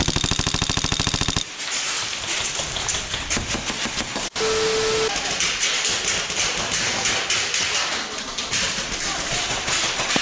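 Airsoft guns fire in rapid, continuous bursts during a match, a dense close-up rattle that runs almost nonstop with a brief break partway through.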